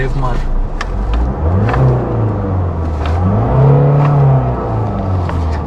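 A Mercedes A-Class sedan engine revs up and settles in a few rising and falling swells, close by, with people talking over it throughout.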